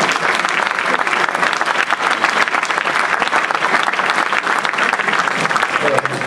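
Loud, sustained applause from a large crowd at a young entrepreneurs' awards event in Aulnay-sous-Bois, dense clapping filling the whole stretch without a break.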